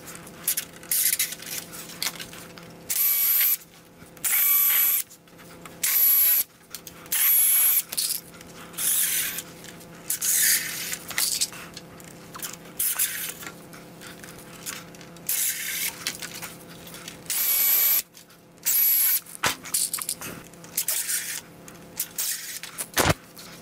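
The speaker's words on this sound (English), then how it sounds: "I'll pilot hole and attach the ends of the X's with a snappy bit specifically designed for these Torx head trim screws" A drill bores pilot holes and drives Torx head trim screws into the wooden X pieces of a garden obelisk trellis, whirring in repeated loud bursts separated by short pauses, close by and without talk.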